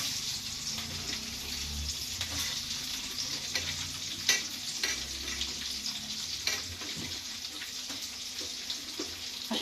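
Chopped onion frying in a pan, a steady sizzle under a few scattered scrapes and clinks of a spatula, close by and with no talking.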